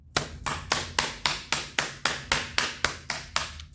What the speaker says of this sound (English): I'm going to pound it out aggressively